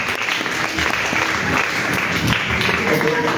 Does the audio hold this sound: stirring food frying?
no